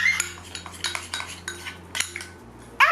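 A spoon clinks and scrapes repeatedly against a bowl while stirring lemon juice mixed with oatmeal into a paste, a series of close, sharp metallic taps in an uneven rhythm.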